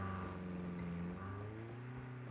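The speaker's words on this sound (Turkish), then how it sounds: "Bir araba sesi var. Biri traktör kullanıyor galiba." Steady engine drone of a car or tractor in the video game Call of Duty Mobile, a low continuous hum with shifting tonal harmonics, faint and uninterrupted throughout.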